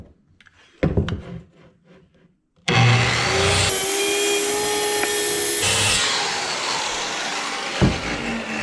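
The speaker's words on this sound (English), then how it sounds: "this will be a bit of a plunge cut here, and we'll finish up the final part of the cut with a handsaw" A circular saw plunges into a wooden board for a budget custom range hood, its loud steady whine running for about three seconds after a few handling knocks, then easing to lower cutting noise.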